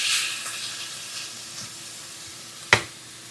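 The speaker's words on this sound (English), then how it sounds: "we're gonna pop a couple cubes into this pan and saute the shrimp" Shrimp sautéing in a pan with a couple of Trader Joe's garlic cubes, giving a steady close sizzle with a loud crackling burst of spattering near the end.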